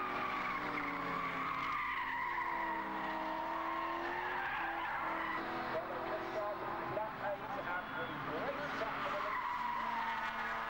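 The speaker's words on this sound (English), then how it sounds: "Here comes the BMW of number 39, David Robbins." A BMW saloon race car at a 1991 road saloon race rushes past on the track, engine roar and tyre noise holding loud and steady, with a commentator talking over it.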